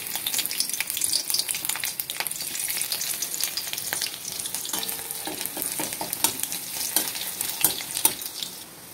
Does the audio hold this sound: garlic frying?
yes